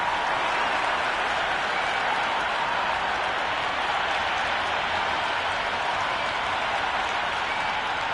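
Simulated crowd in a T20 cricket video game, Queensland Bulls versus Pattoki Warriors, cheering and applauding as one steady, dense roar of clapping and voices that holds at an even, fairly loud level throughout.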